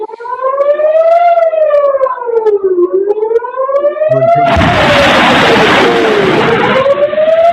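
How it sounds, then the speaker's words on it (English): A loud, wailing air raid siren rising and falling in long sweeps, joined halfway by a harsh burst of broadband noise that continues underneath. "Took out their air raid siren."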